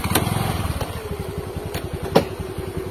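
A motorcycle engine runs up close with a steady, rapid pulsing throb and some mechanical clatter, a short sharp knock near the middle, and no talking.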